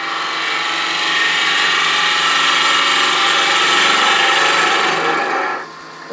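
Wood lathe with a tool hollowing a spinning walnut box, a steady close scraping rasp that holds for about five seconds before tapering off as the cut ends.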